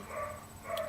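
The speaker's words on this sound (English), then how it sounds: "I'm so sorry for my dog's barking" A pet dog makes one brief, faint bark-like yelp at a distance, short and thin against a quiet room.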